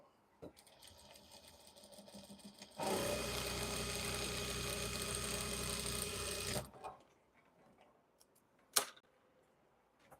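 Sewing machine running steadily for about four seconds while stitching blazer fabric for a hanbok-style blazer, loud and continuous after quiet handling noises, then stopping abruptly, followed by faint rustles and a single sharp click.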